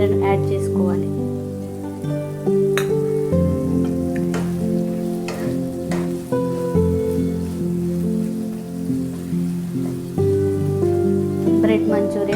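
Bread manchurian fries and is stirred in a pan on a low flame, a steady sizzling hiss running continuously beneath louder instrumental music.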